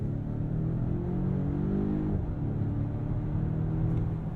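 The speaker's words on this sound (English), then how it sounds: "The 4-cylinder sound. So in power mode, if you're really getting on it," A Volvo XC90 Recharge plug-in hybrid SUV's 4-cylinder engine accelerating hard in power mode, a low droning rumble that rises and holds steady from inside the cabin, with no talk.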